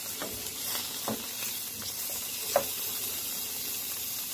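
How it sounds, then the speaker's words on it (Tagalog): Tomatoes sauté with garlic and onion in a hot pan, a steady soft sizzle with a few light clicks of stirring, close up and with no voices. "Ay, gisa natin ang kamatis."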